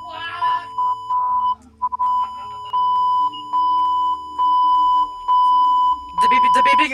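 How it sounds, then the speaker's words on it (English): Loud, steady electronic beeps of Morse code in the video game Identity Fraud, long and short tones in an uneven on-off pattern running throughout, with a voice speaking at the end. "The beeping is so loud from your mic."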